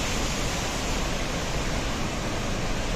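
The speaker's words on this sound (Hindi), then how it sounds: "आवाज़ भी सुन सकते हैं केदार गंगा नदी की" The fast-flowing Kedar Ganga river near Gangotri in the Himalayas roars as a dense, constant rush of turbulent water, loud and close with no break.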